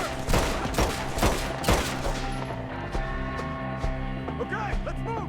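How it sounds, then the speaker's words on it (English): Gunfire at enemies in a combat video game, rapid bursts of loud shots at the start, then sparser scattered shots under a sustained musical score. "Shoot the ones up there first!"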